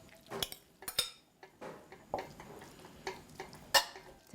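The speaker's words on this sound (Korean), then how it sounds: "냄비를 좀 달군 다음에 고기를 먼저 조금 볶아주세요" Beef being stir-fried in a heated pot for rice cake soup, with a utensil clinking and scraping against the metal in irregular sharp taps, close and clear with no talking.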